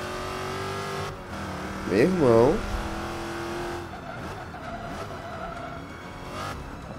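Racing-game car noise from Forza Motorsport 5, with a steady engine drone, a rising and falling tire squeal around the middle, and continuous road rumble while someone speaks briefly over it.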